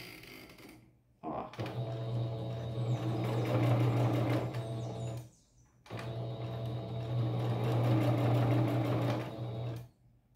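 A sewing machine stitches patchwork fabric for a rug in two long runs, each a steady mechanical whir and rapid needle clatter, separated by short pauses.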